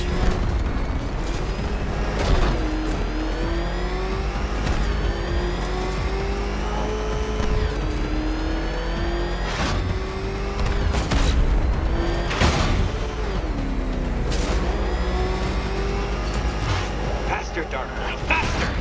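A Batmobile engine revving in the video game Arkham Knight, a steady loud roar with rising and falling pitch sweeps and occasional heavy thumps, a voice talking over it throughout.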